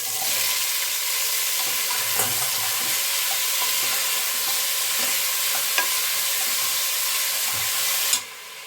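Pumpkin, capsicum and potato frying in a pan, a steady close sizzle with occasional stirring clicks and scrapes, continuous throughout and ending in a sharp clatter.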